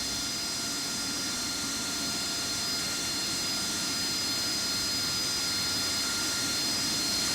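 Steady jet engine roar of an AV-8B Harrier taxiing in the Falcon BMS flight simulator, a continuous broadband whine with high tonal hiss holding constant and uninterrupted throughout.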